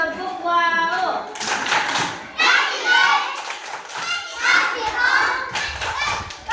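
Children in a primary classroom clap in rhythmic bursts while chanting together, a lively group sound of small hands and young voices repeating a short patterned clapping routine.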